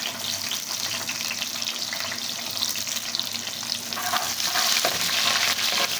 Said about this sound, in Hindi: प्याज को हम हल्का सा गोल्डन ब्राउन कर लेंगे।